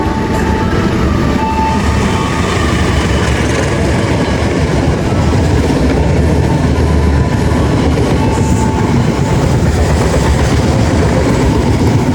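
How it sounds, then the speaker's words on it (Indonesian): The Brantas express train from Pasar Senen to Blitar rumbles through a station at close range without stopping, loud and continuous, with rhythmic clattering of wheels over the rails for the whole stretch. "akan melintas langsung kereta api berantas dari Pasar Senen tujuan Blitar"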